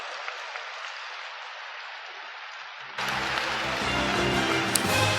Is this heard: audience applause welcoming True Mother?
yes